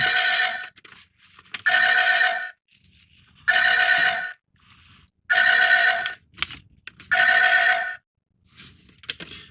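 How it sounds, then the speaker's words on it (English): A red alert klaxon from a Playmates Star Trek Deep Space Nine U.S.S. Defiant NX-74205 toy blares in five loud, evenly spaced electronic bursts with brief gaps between them. "The red alert was the first one. So we got the red alert."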